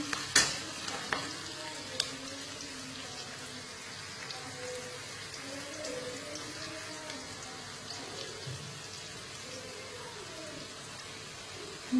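Onions sizzle steadily in a pan while a spoon stirs them now and then, a continuous close frying hiss with occasional scraping clicks and no talking.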